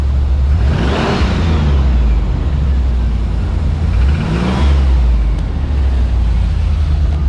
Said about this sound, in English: I think it's still got a lifter tick.